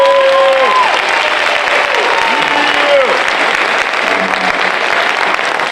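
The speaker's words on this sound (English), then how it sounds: "Give another round of applause to our graduates." A crowd at a high school fire science cadet graduation applauds steadily and loudly, with brief whistled or called-out tones over the clapping throughout.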